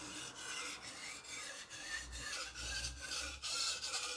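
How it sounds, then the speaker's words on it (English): Knife blade drawn across a wet finishing whetstone with light pressure, a series of soft rasping strokes about every half second, close and quiet, without speech. "When using the finishing stone, you don't apply as much pressure as on the 1000 grit or lower stones."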